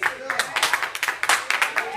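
Church congregation clapping hands in quick, uneven bursts, moderately loud and close, mixed with talk.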